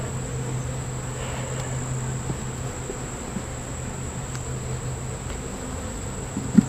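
Honeybees buzz at the entrance of a nuc hive in a steady, low, continuous hum with no talking, with a faint high whine running steadily throughout.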